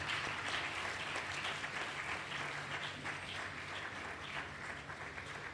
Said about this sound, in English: Could you please welcome her with a rousing sound of applause?